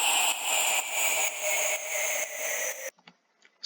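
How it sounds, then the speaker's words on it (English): A dense, hissing synthetic sweep with a gentle pulsing rhythm holds steady for a few seconds, then cuts off abruptly into near silence. "a down lifter that sounds something like this"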